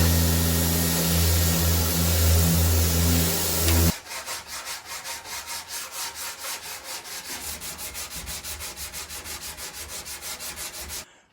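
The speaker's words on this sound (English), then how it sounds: "you want to get some sanding scratches out with the orbital sander" An orbital sander works over the body of a Chevelle, taking out sanding scratches before primer. A loud, steady rubbing drone comes first, then a quieter pulsing scrub with even strokes, close by with no talk.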